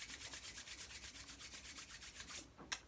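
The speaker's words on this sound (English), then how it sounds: "And rub your hands again." A pair of hands rubs palms together briskly before beeswax is handled, a close, quiet swishing in an even rhythm of about a dozen quick strokes, ending with a brief sharper brush.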